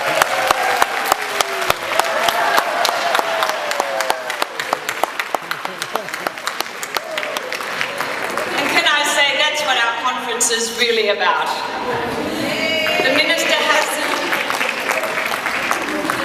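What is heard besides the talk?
audience applause for Robert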